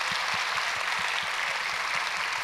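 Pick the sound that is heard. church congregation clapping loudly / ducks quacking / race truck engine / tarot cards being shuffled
church congregation clapping loudly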